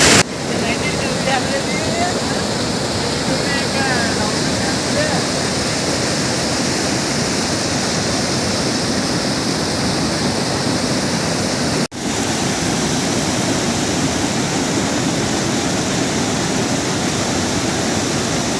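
Rajupalem waterfall in flood, thick with brown rainwater, gives a loud, steady roar of rushing water that holds unbroken for the whole stretch, with only one momentary dip partway through.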